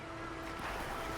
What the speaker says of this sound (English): A highly compressed jet of water should clean the mud off in one go.